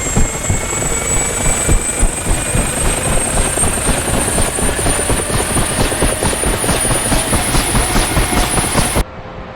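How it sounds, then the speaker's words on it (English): A UH-1H Huey's rotor spins up inside the DCS flight simulator, a loud, steady, rhythmic whop-whop of blades over a continuous turbine whine that holds throughout and cuts off abruptly near the end. "The helicopter will toss you around quite a bit as the rotor spins up."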